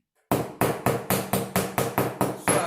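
Hammer tapping a metal sheet laid over paper during a handicraft class, nine evenly spaced sharp metallic blows about every quarter second, close and clear, with no talk.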